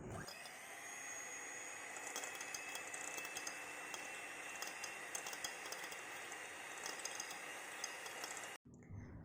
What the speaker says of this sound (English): Use a mixer to mix them each other in 2 minutes.